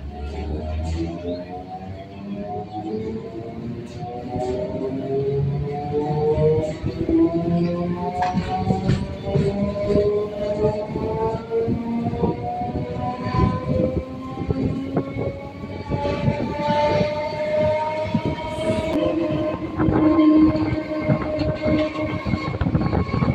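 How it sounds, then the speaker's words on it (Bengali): A suburban electric commuter train on the Sealdah–Barrackpore line pulls away after getting a signal, its motor whine rising steadily in pitch over continuous rumbling and clattering wheels, loud and close from inside the carriage. "সিগন্যাল হয়ে গেল, আমাদের ট্রেন আবার ছেড়ে দিল।"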